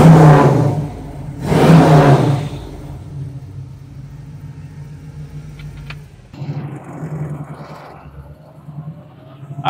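A 1968 Camaro RS engine after a cold start, a loud low rumble that swells in two strong revs early on, then settles into a steady idle with a rougher, uneven stretch near the end.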